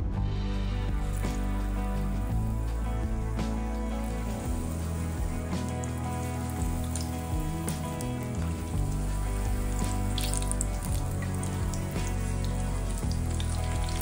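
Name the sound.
capsicum pakora frying in hot oil in a kadai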